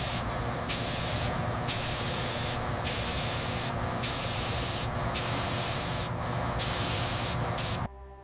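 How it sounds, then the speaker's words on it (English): Airbrush spraying translucent ink onto a silicone mermaid tail in repeated close, steady hissing bursts of about a second each, separated by short pauses, with no talk. "We airbrush layers of translucent ink to create anatomical depth and shadows."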